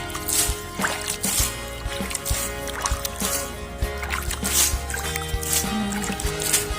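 Rice-soaking water splashes and trickles irregularly onto soft, squishy organic waste for compost, with bursts of pouring and dribbling up close over a faint background hum.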